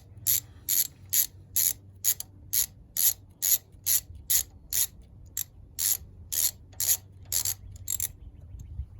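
Rapid ratchet clicks from loosening spark plugs on a 2020 Jeep Compass, about twenty short bursts in a steady back-and-forth rhythm, close and crisp over a low hum.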